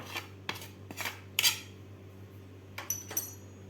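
Spoon clinking and scraping against a bowl while spice masala powder is mixed for mirchi bhaji, a few short metallic taps spread out and close by, with no talking.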